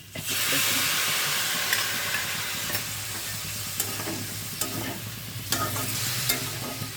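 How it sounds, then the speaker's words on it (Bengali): Spice paste mixed with water frying in a pan for a coconut-milk elephant foot yam and prawn dish, a loud constant hissing sizzle with occasional stirring knocks, close by. "এই মশলাটা দিয়ে আরেকটু কষে নেব"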